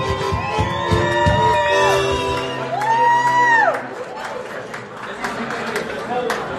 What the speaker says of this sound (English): How about a nice round of applause for David Nigel Cooldraw, everybody.